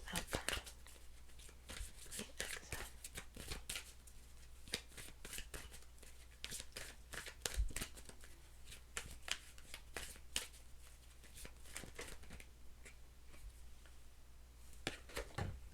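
Tarot cards shuffled repeatedly in a quiet room, with a steady run of soft riffling and snapping card flicks, close but low in level, going on alone throughout.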